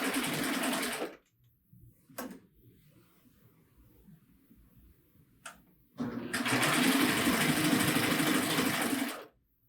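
A Baby Lock Euphoria serger hemming fabric runs in two loud, steady bursts of whirring stitching, separated by a few seconds of quiet broken by faint handling clicks.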